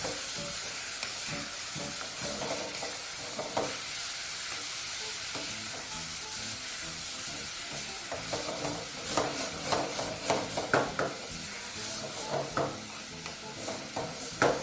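Chilli chicken with plenty of onion sizzles in a hot pan while being stirred, a constant hiss overlaid by rhythmic scraping strokes that grow busier and louder toward the end.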